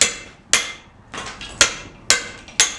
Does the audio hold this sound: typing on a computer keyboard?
no